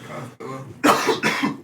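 A man coughs repeatedly at close range: a short rough cough, a pause, then a louder run of hacking coughs in quick succession, with no speech.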